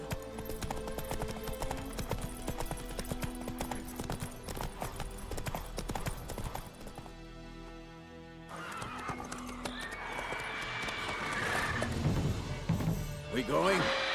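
Roach the horse trotting in Witcher 3: Wild Hunt, a steady clip-clop of hooves with a whinny, heard over game music and ambience that shift partway through.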